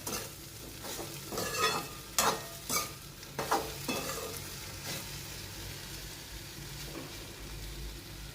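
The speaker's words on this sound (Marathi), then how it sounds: "मीठ टाकून पण आता हलवून घ्यायचं." Vegetable curry stirred in a pan after salt goes in, a soft frying sizzle with a handful of spoon scrapes and knocks clustered early, then fading to a quieter simmer.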